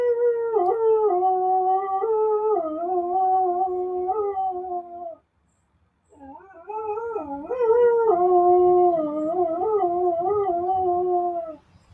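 A dog howls in long, wavering tones, two sustained howls separated by a brief pause, close and loud, howling along to a fire truck siren.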